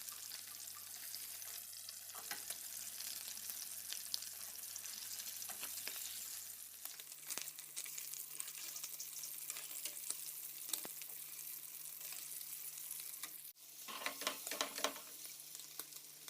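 Beef tongue fries in a pan with a soft, steady sizzle and occasional crackles and stirring clinks, quiet and close, with a low electrical hum underneath and no talking.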